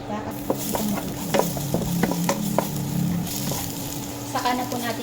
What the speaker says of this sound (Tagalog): Gigisa ng sibuyas at maglalagay lang po ako ng konting mantika.